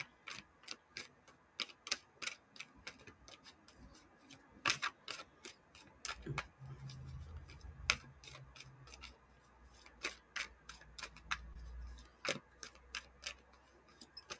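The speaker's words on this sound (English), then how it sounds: "I'm just shuffling the cards." Tarot cards being shuffled between readings, a steady series of soft, crisp card taps and flicks, close and faint, with a low rumble underneath partway through and no talking.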